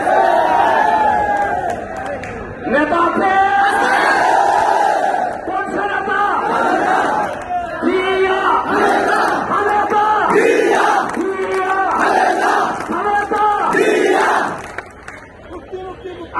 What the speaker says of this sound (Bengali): আমার সাথে স্লোগান ধরেন